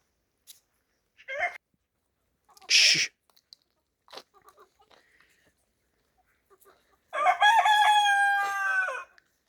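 A young farmyard rooster, bought as a pullet, lets out one long, loud crow near the end, preceded by a few brief clucks and scattered small noises.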